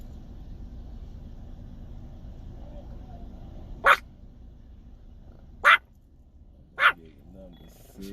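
A dog barks three times in sharp, loud, separate bursts spaced a second or two apart, over a quiet indoor background with a low hum.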